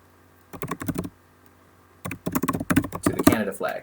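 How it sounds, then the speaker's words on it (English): Computer keyboard typing at an office desk: two quick bursts of close, rapid key clicks, a short patter, then a pause, then a longer and louder run of keystrokes with no talk. "Miss Canada flag is just typing away at the office."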